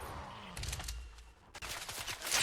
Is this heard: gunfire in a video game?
yes